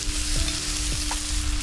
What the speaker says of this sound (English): We'll stir fry the daikon for 40 to 50 seconds, and then add the shiitake mushrooms and carrots.